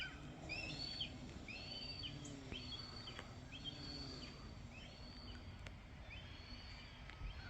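A hawk along the Susquehanna River gives faint, distant, repeated descending screechy calls in a regular series over quiet outdoor ambience.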